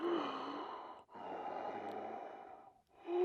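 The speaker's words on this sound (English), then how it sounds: "there was nothing, just some wheezing or heavy breathing" Wheezing, heavy breathing heard over a phone line during a late-night radio call-in, faint and close, with slow drawn breaths broken by two short pauses.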